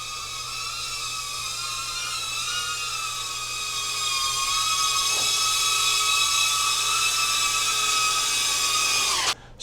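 Newly built drone on its maiden flight, a steady high-pitched multi-rotor whine with layered motor tones that rise and waver slightly as it flies, continuous and fairly close before cutting off at the end.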